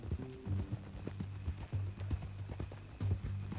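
Horse hooves clip-clop in Red Dead Redemption 2, a steady close rhythm of hollow hoof strikes over a low droning tone with a faint hint of voice.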